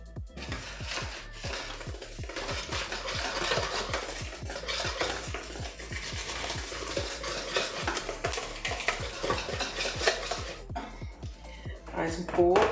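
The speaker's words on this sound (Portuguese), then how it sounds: "Agora é só vir aqui peneirando isso aqui e misturando com o fouet." Chocolate cake batter whisked by hand with a balloon whisk while flour is sifted in, giving a steady, quick rhythm of close scraping strokes against the bowl, with a voice faintly present.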